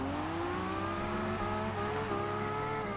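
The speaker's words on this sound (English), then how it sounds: "Wow, a lot of wheel spin." A Nissan Skyline 2000GTR in the racing game Forza Horizon 2 spins its wheels, the engine holding a high, sustained whine with steady harmonics and a slight pitch dip, continuous and unbroken, with no voices.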